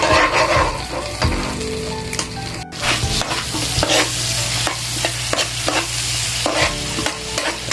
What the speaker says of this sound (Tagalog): Nilagyan na natin yung bawang at saka sibuyas.